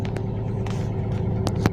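A car engine idles steadily while warming up, a low continuous hum with a faint periodic rumble, interrupted by a few light clicks.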